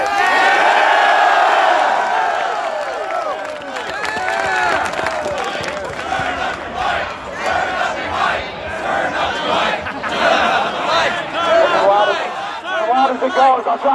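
A large crowd at an outdoor political rally in a packed park roars with cheers, whoops and shouts in rising and falling waves, with voices heard among the noise.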